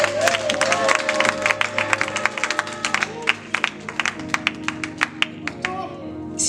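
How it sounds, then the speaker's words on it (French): Church congregation clapping in quick sharp bursts, the claps growing sparser toward the end, with organ or keyboard chords and singing voices sustained underneath. "Acclamons pour le Seigneur."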